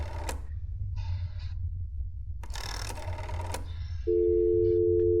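A telephone handset gives short bursts of dialing and line tones, then a steady, loud, unbroken call tone over a low constant hum.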